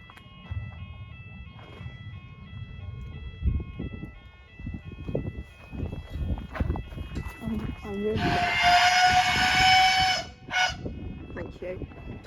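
A train passes a Common Lane level crossing in Somerset, with a loud, steady horn or whistle blast near the end rising over rumbling running noise and crossing alarm tones, while people talk nearby.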